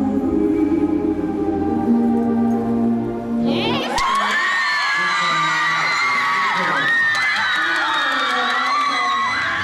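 A large crowd cheers and whoops loudly in a reverberant ice rink at a synchronized skating competition, bursting in after a few seconds of music and continuing enthusiastically.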